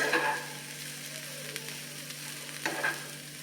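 Paneer pulao sizzles steadily in a pan while a utensil scrapes through it in a few distinct stirring strokes, close and moderately loud.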